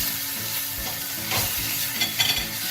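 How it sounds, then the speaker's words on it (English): Beef frying in a pan for curry with masala spices, giving a steady close sizzle with stirring scrapes and a few louder bursts toward the end. "Now I will fry the beef as well"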